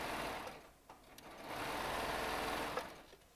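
A Baby Lock Triumph serger whirs close and continuously, stitching for a few seconds with slight dips in speed partway through.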